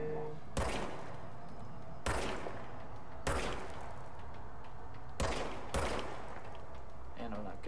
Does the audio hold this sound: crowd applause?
no